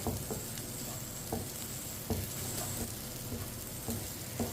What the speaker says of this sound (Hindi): इसी तरह चम्मच चलाते हुए 2-3 मिनट के लिए पका लेना, ताकि सब चीज़ें हमारी अच्छी तरह पक जाएं।